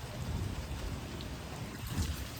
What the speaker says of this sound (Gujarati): ગાજવીજ એટલી જોરમાં થાય છે ને બેકગ્રાઉન્ડમાં તમને સંભળાતું જશે